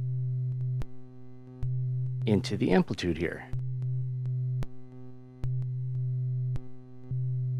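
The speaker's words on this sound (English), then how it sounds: "And we're getting sine wave." Steady low sine tone from an oscillator patched into a modular synth wave-animator module, sustained across the clip with brief dropouts and clicks as patching changes, while someone talks briefly in the middle.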